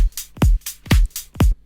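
A layered kick drum, high end from one sample and low end from another, pounds three times in a steady beat over a drum loop with bright hi-hat-like hits between, close and loud with no voices.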